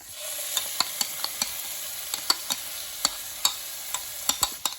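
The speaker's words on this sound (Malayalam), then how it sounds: "നമ്മൾ അരച്ച് വെച്ചിരിക്കുന്ന തക്കാളി ഇട്ട് കൊടുക്കുകയാണ്" Ground tomato paste added to frying masala in a pan while making chicken tikka masala, giving a soft steady sizzle with sharp intermittent stirring clicks and scrapes, close and fairly quiet.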